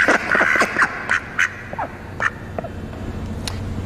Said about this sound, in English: here's the duck quack that we recorded